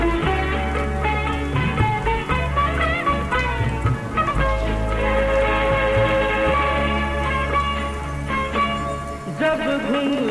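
Steady rain patters beneath retro Hindi lofi music with a continuous beat and melody, the rainfall audible as a soft texture layered under the song.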